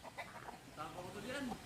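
A hen clucks near her chicks in a short burst of soft, low clucks and murmurs, ending with a longer drawn-out call, close by and fairly quiet.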